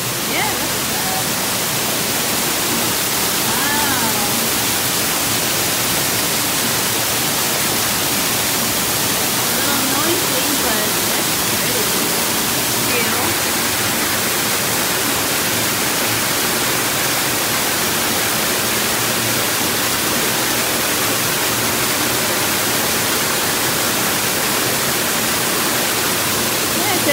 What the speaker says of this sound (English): There's a water fountain or a waterfall, I should say.